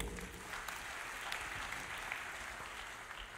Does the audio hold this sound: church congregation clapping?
yes